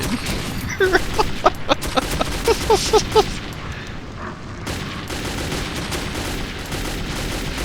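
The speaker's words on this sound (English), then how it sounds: "aim button also fires shotgun shells" Shotgun blasts in the video game Metro 2033, several quick loud shots in a burst over the first few seconds, amid dense game noise and a steady rumbling background.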